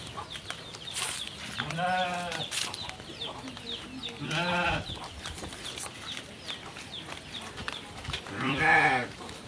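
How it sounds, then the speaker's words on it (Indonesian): Farm goats bleat repeatedly in nasal, wavering calls at close range, several separate cries spaced over a few seconds, with clucking fowl and faint background noise around them. "coba kita lihat kambing yang dipelihara sama Abah dan Umi di sini"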